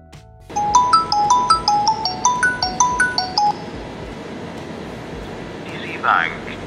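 A phone ringing with an incoming STC Bank beneficiary activation call: a bright melodic ringtone repeating its chiming pattern about a dozen times, loud and close, then stopping before a short electronic tone.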